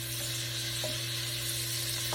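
Cubed deer steak frying in butter in a pan gives a steady, close sizzle with faint crackles, continuous and unaccompanied by speech.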